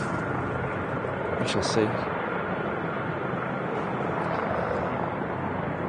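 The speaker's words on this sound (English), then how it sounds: "It's going to do maybe a hover taxi, although some of them do touch down and taxi on the ground." A helicopter hover taxiing at Manchester Airport gives a steady, broad rotor and engine roar at moderate distance, with a person speaking briefly over it.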